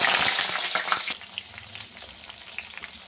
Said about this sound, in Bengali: আলুটাকে ভেজে নিই